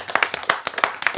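Short, lively clapping from an audience: a scattered run of bright, nearby hand claps lasting just over a second, heard on its own.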